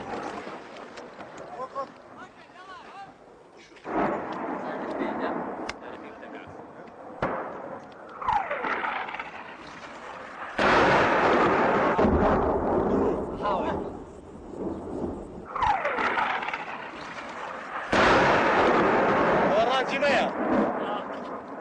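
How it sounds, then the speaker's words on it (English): Heavy, rolling booms of Iranian artillery shelling hit a Kurdish farming area, some loud and close, with long rumbling tails. Excited voices speak between and over the blasts. "A new round of Iranian shelling has begun."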